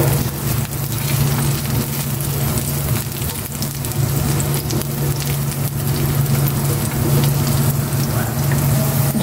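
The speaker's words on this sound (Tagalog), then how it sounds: "Gisa ko na rin itong sibuyas." Onion and garlic sautéing in oil in a pan, a loud, dense, continuous sizzle and crackle that holds steady throughout with a low hum underneath.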